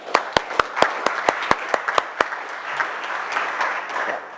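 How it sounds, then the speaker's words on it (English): Applause from a live audience at a conference talk, with a few sharp, distinct claps at first building into dense, steady clapping that carries on for several seconds. "So I think that deserves a round of applause."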